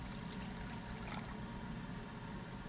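Steady, faint pouring of water into a container, a continuous low splashing rush that stays even throughout.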